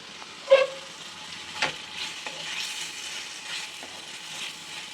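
Ginger garlic paste frying for capsicum chicken gravy, a quiet sizzle with a few sharp stirring clinks near the start and soft scraping afterward.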